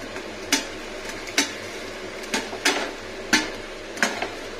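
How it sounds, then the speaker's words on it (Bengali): Okra and onion frying in oil in a covered pan, with a steady low sizzle and several sharp clatters and taps spread through the clip. "ভালো করে ফ্রাই হচ্ছে।"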